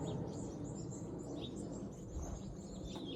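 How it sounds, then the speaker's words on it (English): Birds singing up in a garden tree, faint chirps and short calls scattered over a low, steady outdoor rumble. "I hope you can hear the birds."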